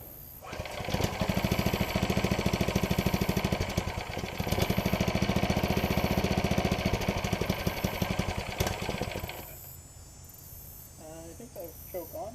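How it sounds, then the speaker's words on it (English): A 212cc Honda clone engine on a mini bike fires up and runs with a loud, steady, buzzing drone for about nine seconds, a brief dip partway through, then cuts out to quieter background sound. "I'm going to keep this throttle and have the key in the on position and then see what happens."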